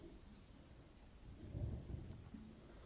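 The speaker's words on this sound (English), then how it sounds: "By night, it has become a fierce storm." A fierce storm with howling wind and drenching rain rumbles faintly and low, with a soft thunder-like swell in the middle over a quiet wash of rain.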